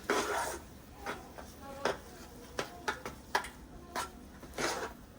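Potatoes being stirred in a pot in a home kitchen, with a spoon scraping and knocking against the pot in quiet, irregular strokes, each one fairly faint.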